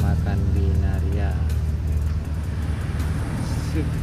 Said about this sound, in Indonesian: kini bus PT Rapi lagi masuk ke Rumah Makan Binaria